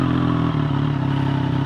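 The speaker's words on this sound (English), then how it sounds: "I'm going to turn my bike on and be obnoxious real quick." A Pedigree race motorcycle idles steadily right after starting, a close, loud, even engine drone with a low pulsing rumble and light mechanical clatter.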